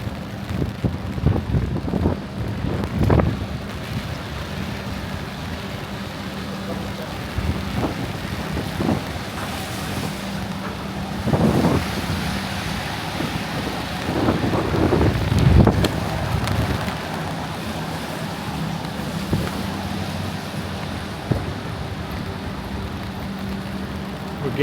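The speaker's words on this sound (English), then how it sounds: "we're getting the full force of the wind" Strong wind gusting through Manhattan's Rockefeller Center at night, a steady broadband roar with rushing surges and buffeting hits on the microphone throughout.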